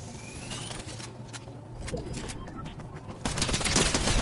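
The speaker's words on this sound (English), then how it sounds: "We got enemy shooting from behind too" Gunfire from enemy players in the Fortnite video game, scattered shots crackling under constant voice chatter and getting louder toward the end.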